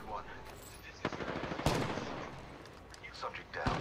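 Gunfire in the battle royale video game Apex Legends during a supply ship brawl: scattered shots and short bursts at varying distances, a few loud close cracks over a busy game background.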